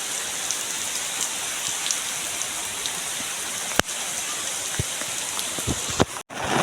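Heavy rain pours down during a Navratri downpour, making a dense, steady hiss of drops on surfaces. A few sharp knocks break through near the end.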